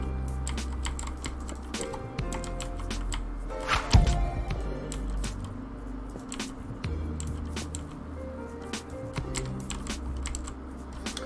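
Rapid keyboard typing during a Minecraft survival livestream, clicky keystrokes tapping in dense, uneven bursts up close, with one louder thump near the middle.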